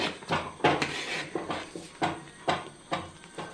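Tirunelveli halwa being stirred in a pan, a spoon scraping and knocking against the metal in a steady rhythm of repeated strokes, close and moderately loud with no talking.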